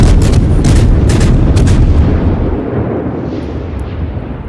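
Ship guns from the destroyer Nueve de Julio fire in World of Warships, several loud booming blasts in quick succession that roll off into a long fading rumble, with no talk.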